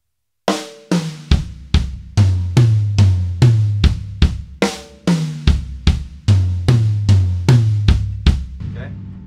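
Slow drum kit pattern played on toms and two kick drums for a solo, about fifteen loud, evenly spaced resonant hits alternating high and low drums, each ringing out before the next, with no voices.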